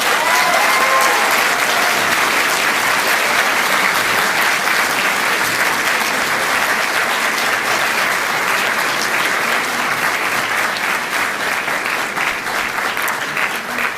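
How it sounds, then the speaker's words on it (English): Sustained, dense applause from a large audience fills a university graduation ceremony hall, steady and loud throughout without a break. "Please give them a huge and rousing round of applause."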